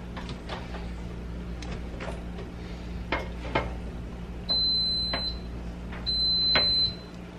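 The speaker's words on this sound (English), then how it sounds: "Y'all hear that beep? Y'all know what it is. It's the rice." A rice cooker beeps to signal the rice is done, two loud electronic tones sounding close in a kitchen over a low steady hum and scattered clicks.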